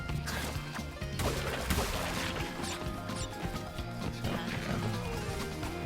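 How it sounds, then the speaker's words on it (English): Wooden crates smashing in Crash Bandicoot 4, a rapid string of loud cracking breaks over game music and effects. "Smash, smash, smashing the boxes,"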